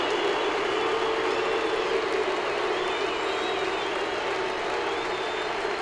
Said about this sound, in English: Now you listen to the crowd here at Texas and their appreciation of the job done by Darvish tonight.